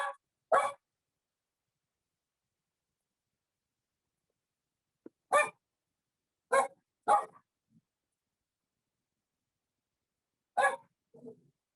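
A dog barks in short, isolated yelps spread over several seconds with long silent gaps between them, heard fairly clearly against an otherwise quiet background.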